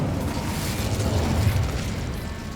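An Incendio fire spell cast in the wizarding game Hogwarts Legacy, a loud roaring burst of flame with crackling, rumbling texture that swells and holds for a couple of seconds.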